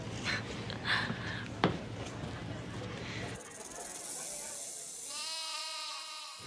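After a stretch of talking and a hissing hush, a sheep lets out one drawn-out, wavering bleat close by.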